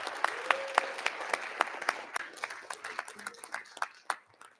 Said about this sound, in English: let's have another round of applause for our students of the month.